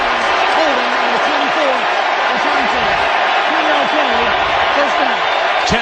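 A packed crowd at U.S. Bank Stadium roars loudly and continuously as a quarterback walks back onto the football field, with a commentator's voice talking over the din.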